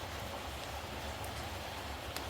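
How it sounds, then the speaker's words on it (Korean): Winter rain falling, a faint steady patter spread evenly throughout, with a few soft drips standing out near the end. "빗소리"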